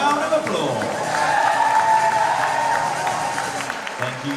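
Audience at a PCA bodybuilding show applauding and cheering across a hall, a steady wash of clapping and crowd noise at moderate loudness holding for several seconds.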